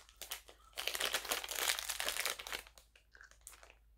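Someone tears into a mailed package, and the plastic wrapping crinkles and crunches loudly up close in bursts of rustling that rise and fade over a few seconds.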